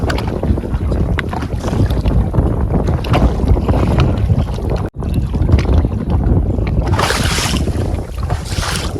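Strong wind gusting over a big river while out fishing from a boat, roaring steadily and loudly with heavy buffeting of the microphone, a brief dropout midway and a hissing surge near the end.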